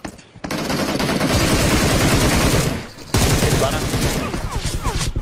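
Sustained automatic gunfire in a tense shootout scene from an Indonesian TV drama, rapid loud bursts filling nearly the whole stretch with a brief pause midway, voices faintly mixed in.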